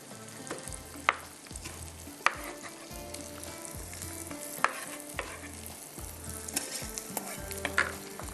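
Methi prawns sizzling and frying in a pan while being stirred, with steady crackle and several sharp utensil knocks against the pan at intervals, close and alone.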